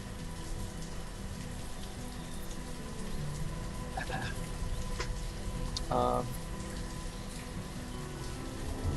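Steady rain hiss in the video game Banished, a continuous wash of soft patter with a few brief drips and clicks over it, and a faint voice now and then in the background.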